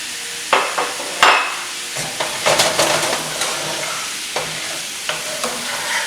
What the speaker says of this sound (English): Add it with all your sauce. Saute very well.